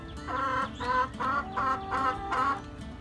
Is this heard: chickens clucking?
yes